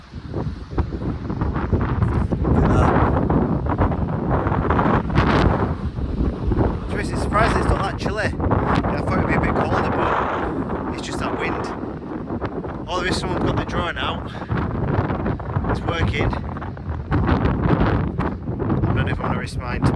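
Strong wind buffets the microphone on an island beach, a loud continuous roar with gusty swells that runs throughout.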